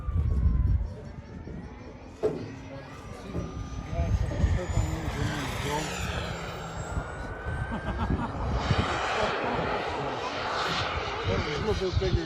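Turbine-powered RC model jet at the Saratoga Springs RC park in Utah, its engine whining and roaring as it passes, rising and falling in pitch, with people talking throughout.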